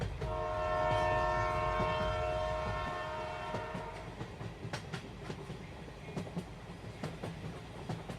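Cartoon train effect: a loud sustained horn blast fades into rapid rhythmic clickety-clack of wheels on rails, the rolling continuing steadily to the end.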